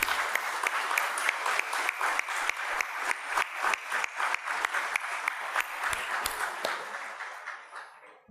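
A conference audience in Uruguay breaks into applause, the clapping loosening into distinct, separate hand claps that ring out near the room and then fade away toward the end.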